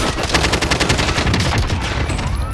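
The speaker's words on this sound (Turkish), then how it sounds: "Silah sesi" Rapid bursts of video game gunfire from Call of Duty: Warzone rattle continuously, loud and dense, like automatic weapons firing nonstop with no pauses.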